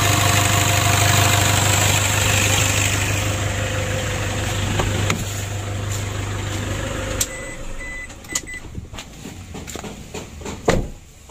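A Toyota Innova diesel engine that is hard to start and lacks power idles with a steady, loud, close drone. The engine cuts off after about seven seconds, leaving scattered clicks and handling noises.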